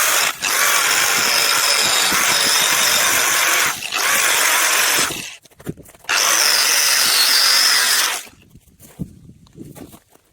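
A grinder fitted with a 1mm cutting disc screams loudly through salvaged wind turbine parts in two long bursts, broken by a brief pause, and falls silent with a few clanks and knocks.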